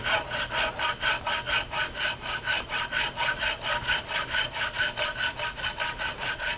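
Rhythmic back-and-forth cutting of a groove down to silicone bronze, about twenty regular close strokes with a bright rasping edge, loud and steady with no talking.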